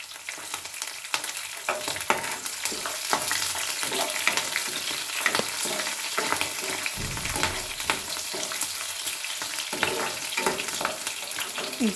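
Green chillies and curry leaves frying in hot oil, a dense crackling sizzle with frequent spattering pops and occasional spoon scrapes, steady and close throughout.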